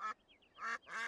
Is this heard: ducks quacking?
yes